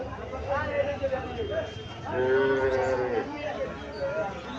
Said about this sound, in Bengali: এখানে আরো দুইটা বাছুর দেখা যাচ্ছে, সেম বাছুর, দুইটা সেম বাছুর।